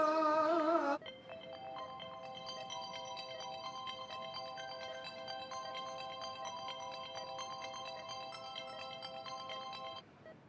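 A telephone rings steadily and clearly after a call is placed, a repeating electronic ringtone running for several seconds on its own, with no talk over it.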